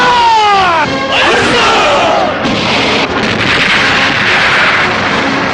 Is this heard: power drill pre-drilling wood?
no